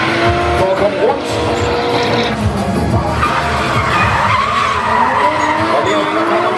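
Cars drifting at a motor festival in Allingåbro, continuous loud tire squeal and skidding over revving engines, sustained without break.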